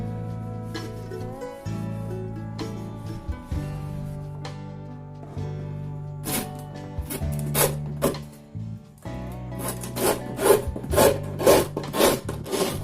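Rasping strokes of a file on wood while making a floating shelf come in short, bright bursts, sparse at first and then in a quicker run over the second half, all under steady background music.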